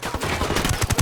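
Rapid gunfire in Ghost Recon Wildlands, shots coming from inside a watchtower, a dense burst of bangs that grows louder and heavier toward the end, with game background noise throughout.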